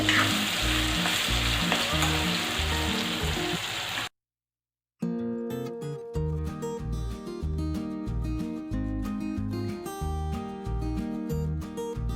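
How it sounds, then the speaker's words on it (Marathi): Onion frying in a pan until reddish-brown, a continuous close sizzle with stirring clatter and scraping throughout, cut by a brief silent gap midway before the frying resumes, no talking. "कांदा छान लालसर भाजून घेऊया."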